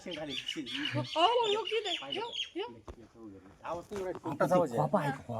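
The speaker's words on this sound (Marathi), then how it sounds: "पोपटाचा आवाज आहे" A parrot gives squawking, chattering calls mixed in with people talking close by.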